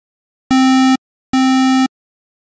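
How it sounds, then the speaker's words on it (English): Two identical buzzy, hollow square-wave synth tones sound in sequence, each held about half a second with a short gap between, clean and electronic. "I've got a square wave here."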